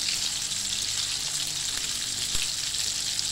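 Steady close sizzle of Swedish IKEA-style meatballs frying in oil in a pan, a constant hiss with a few faint pops and no talk.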